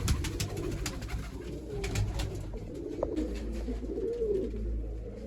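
Several pigeons, including a red-shouldered one, coo softly in a loose, overlapping murmur close by, over a steady low rumble and scattered flutters and taps.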